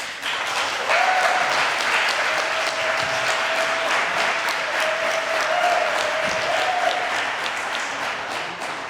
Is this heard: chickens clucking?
no